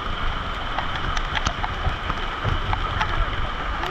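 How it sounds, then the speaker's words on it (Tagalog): Heavy rain drums steadily on a surface, a dense continuous patter with scattered sharper drops close by. "Aba, lakas ng ulan, oh."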